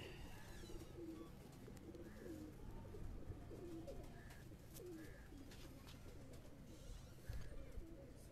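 Pigeons coo on a Karachi rooftop in soft, repeated throaty calls over a steady low murmur of background noise. The calls are faint and distant.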